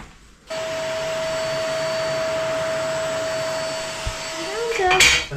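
A Hoover vacuum cleaner runs with a loud, steady whine and roar while cleaning up after a cut during a kitchen renovation in an old building in Central Portugal, then winds down near the end.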